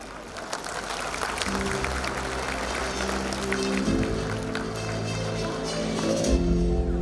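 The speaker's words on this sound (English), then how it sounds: "please give a big round of applause" An audience at a school fest applauds to welcome the chairperson, continuous crowd clapping mixed with loud music as the welcome plays out.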